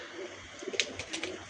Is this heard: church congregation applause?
no